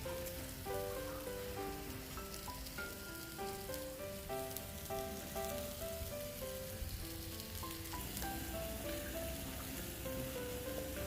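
Pork belly sizzles and crackles on a hot grill in a continuous fatty hiss, with steady background music playing over the cooking.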